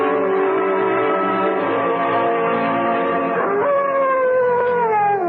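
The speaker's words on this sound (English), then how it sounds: "What the devil is the matter with that dog, Chadsworth?" Dog howls in a radio drama, one loud close drawn-out wail that bends and slides in pitch, with no talking over it.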